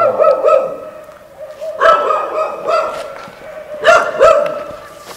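Several sharp dog barks in quick bursts, a cluster at the start and again midway and near the end, fairly close and loud with some yipping quality, no talking.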